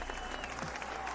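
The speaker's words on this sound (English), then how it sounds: "Let me give you a round of applause" A round of applause: dense, continuous clapping from a group, steady and moderately close, with a faint voice underneath.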